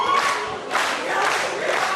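Wrestling crowd in the Thornbury Theatre roaring during a 2016 women's match, a dense, loud, sustained cheer with a brief dip and a renewed surge, no clear speech.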